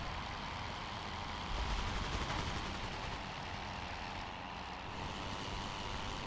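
Anti-aircraft ground fire rattles in steady fast bursts in the Rise of Flight World War I flight game, mixed into a constant loud engine drone and wind roar.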